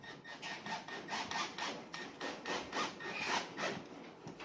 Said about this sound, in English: Get my screw and my driver into my pre-drilled hole.